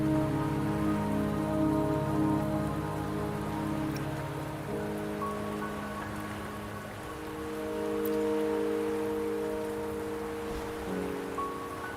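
Steady rain pours down in the video game Wuthering Waves, a dense continuous patter on surfaces that swells slightly midway, with no voices over it.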